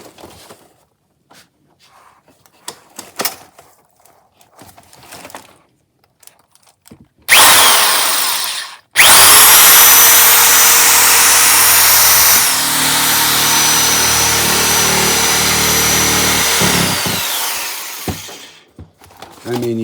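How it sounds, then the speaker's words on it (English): Shears cutting through a carpet tile to make a liner for a vintage Craftsman three-drawer tool box, a loud steady rasping crunch lasting about ten seconds after some quieter handling noises, close up with no talk. "we can go to work with the shears"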